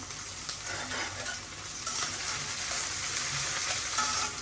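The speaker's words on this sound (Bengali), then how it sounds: "এখন পেঁয়াজটা একটু ভাজা ভাজা হোক" Chopped onions fry in a pan of oil with bay leaf, cardamom and cinnamon, a steady close crackling sizzle that swells louder midway, with faint stirring and no talk.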